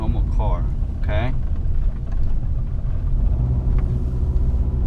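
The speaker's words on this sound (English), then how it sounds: "Just a regular noise like a normal car" A car rolls steadily over a bumpy road with ordinary road noise, a continuous low rumble throughout with brief faint speech early on.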